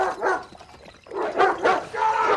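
A dog barks in a film scene where a hired thug yells at it; several sharp barks and yips come in quick bursts, mixed with a rough shouting voice.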